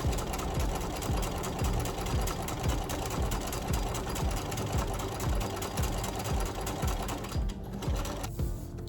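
A sewing machine stitches shorts fabric, running a fast, steady mechanical rattle close up for most of the stretch, then pausing briefly near the end before resuming.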